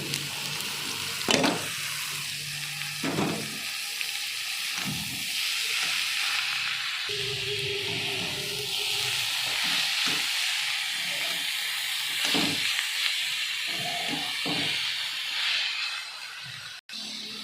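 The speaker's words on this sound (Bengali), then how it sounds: "সিদ্ধ করা শাকটাকে আমি তুলে দিলাম।" Boiled pumpkin greens frying in a wok, a long hissing sizzle with bursts of steam and occasional scraping stirs, close and fairly quiet, ending in a sharp click.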